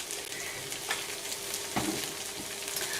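Sage is stirred into a sizzling fry-up in a pan: a constant close frying crackle broken by a few louder scrapes and knocks of the utensil against the pan.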